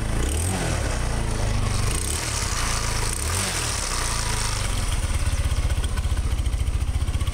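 A scooter engine runs steadily and loud, close by, with a continuous rough drone that settles into a fast, even pulsing toward the end; no voices are heard.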